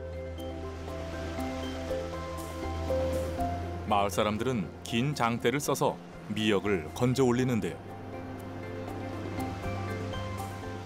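Sea waves wash onto a rocky seaweed-gathering shore in a steady, continuous roar, while a narrator talks over the surf in the middle of the stretch.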